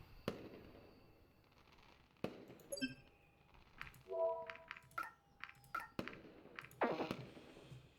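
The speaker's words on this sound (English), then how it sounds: "Soon I heard the sound of the first rocket making its way into the night sky, after which it exploded in a pattern of colors." Fireworks rockets in a video game night celebration pop and burst one after another, sharp cracks scattered among whistling, tonal fizzes and crackling tails, moderately loud with short gaps in between.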